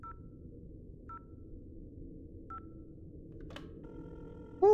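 A telephone rings on an outgoing call in the game INFRA, three short quiet ring tones spaced apart, a click, then a steady tone as the line connects.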